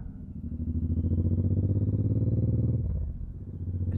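A Suzuki M109R motorcycle engine rumbles steadily while riding, a deep pulsing low-pitched drone that eases briefly as if shifting before returning, close and loud.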